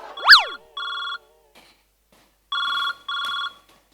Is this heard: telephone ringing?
yes